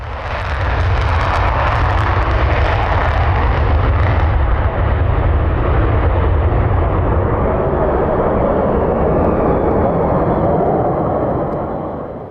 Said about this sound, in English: This F15 was taking off when it suffered an afterburner blowout